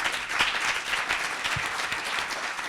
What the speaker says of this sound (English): could we give the panelists a welcome applause?